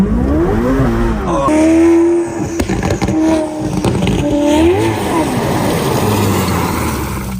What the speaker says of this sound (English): We're doing donuts in a freaking Ferrari